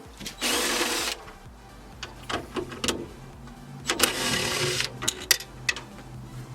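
A power tool spins out the four bolts holding the air suspension compressor on a Range Rover L322 with a suspension fault. Two loud, close whirring bursts are heard, broken by short metallic clanks and knocks.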